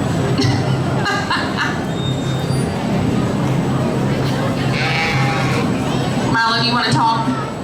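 A market goat bleats at a youth premium livestock auction at a county fair, short cries rising over a steady crowd murmur and an auctioneer's voice, with people talking throughout.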